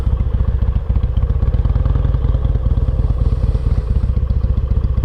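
Harley-Davidson XL883L Superlow motorcycle being ridden, its engine a loud, steady low rumble with a fast pulsing throb throughout, close up and without speech.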